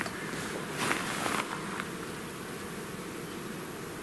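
Bees buzzing around a newly delivered beehive at a forest apiary, a steady droning hum with a brief louder burst near the start, no talk.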